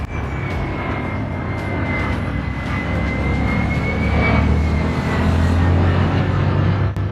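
A Phantom military jet flies by with a loud, continuous engine roar over a deep rumble and a slowly drifting whine, steady and close for the whole stretch without voices.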